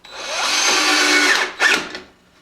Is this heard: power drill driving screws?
yes